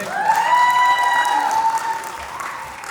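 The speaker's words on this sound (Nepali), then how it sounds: "एकचोटि जोरदार ताली लक्ष्मी गर्बुजाजीको लागि।" A crowd applauds and cheers for dance competitor Laxmi Garbuja at a group dance competition in Tokyo, Japan. The steady, fairly loud clapping fills the whole stretch, and a sustained tone rings over it early on.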